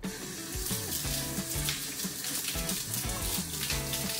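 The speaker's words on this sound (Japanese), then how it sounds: "シャワーヘッドが壊れてて半分以上の水がこっから出てしまうっていう。" Water gushes and splashes from a broken shower head in a hostel bathroom in Athens, a steady close hissing spray with irregular sputtering as the flow hits surfaces.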